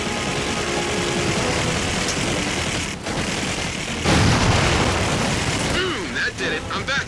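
A big explosion in Halo 4 Spartan Ops, a heavy rumbling blast swelling midway over an already dense, roaring battle din, followed by a radio voice speaking.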